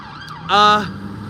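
An emergency vehicle siren sounds outside, a brief loud harmonic wail that swells up suddenly and fades within a second over a low background hum.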